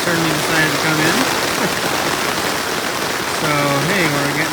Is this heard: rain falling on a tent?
yes